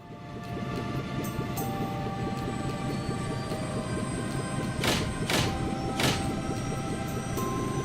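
The warship Arziel in Trails in the Sky lifting off: a steady, loud engine drone with tonal hum layered over a broad rumble, and a few sharp bright bursts near the end.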